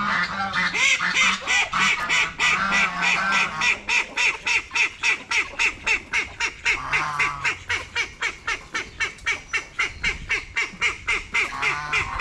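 A flock of ducks being released into a river quacks continuously and loudly, with dense, rapid overlapping calls that form a steady pulsing chorus close by, and no talk over it.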